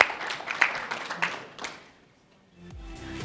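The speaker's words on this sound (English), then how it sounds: "We can please give a round of applause for our next panelists." Audience applause at an education leadership panel as panelists come on stage, a fairly quiet smattering of claps that fades out after about two seconds before a brief low thump.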